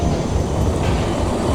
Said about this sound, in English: Oh, here's a train arriving, class 168.